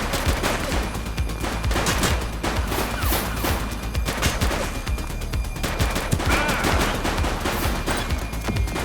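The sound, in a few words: gunfire in a police video game shootout (The Precinct)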